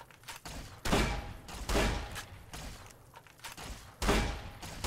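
A 12-gauge shotgun fired in Fallout New Vegas, about four loud blasts spaced roughly a second apart, each with a sharp onset and a trailing rumble, with quieter clatter between shots.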